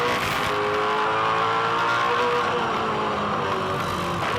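A 2007 V8 Supercar races at Winton Raceway, its engine a loud continuous roar with rising harmonic whine, steady and close throughout with slight pitch shifts as it holds speed.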